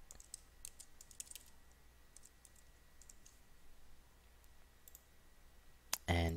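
Passphrase being typed on a computer keyboard; scattered clusters of quiet key clicks over a faint hum, ending in a louder clatter.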